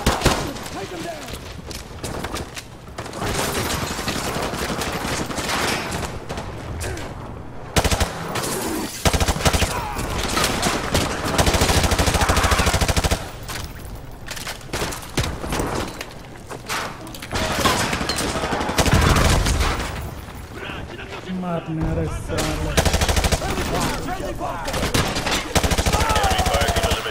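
Sustained machine gun bursts crackle loudly in Call of Duty Modern Warfare 2 Remastered, long volleys broken by brief pauses, with voices calling out over the combat.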